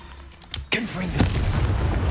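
Confringo fire spell explosion in the Hogwarts Legacy game: a sharp crack, then a strong blast, and a second burst rolling into a loud crackling rumble, with a voice briefly mixed in.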